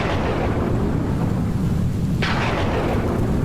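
A deep rolling thunder rumble in a rainy-season storm, loud and continuous, with a sharper crackling burst partway through over steady low roar.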